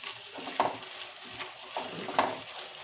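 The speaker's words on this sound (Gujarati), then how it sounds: "આ બધું જ આપણે ધીમા તાપે કૂક થવા દેવાનું છે।" Chopped tomato and green chillies cooking over low heat in a pan, a soft steady sizzle with a few light stirring scrapes at intervals, quiet and close.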